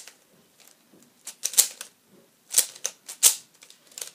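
A lubricated, tensioned 3x3 puzzle cube is turned in quick bursts of sharp, dry clicks and clacks separated by short pauses, close and distinct with no talking.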